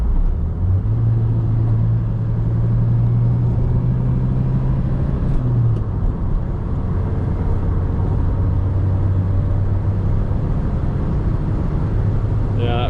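A 1984 Pontiac Fiero's engine drones steadily from inside the cabin, holding one low pitch, then dropping to a lower, steady tone after a shift into third gear, with occasional talk over it.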